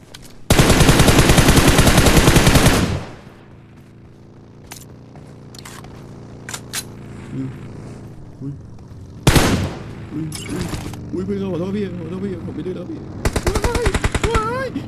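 Gunfire in PUBG Mobile: a loud sustained automatic burst up front, then scattered single shots and a later burst, with excited voices talking over the game noise.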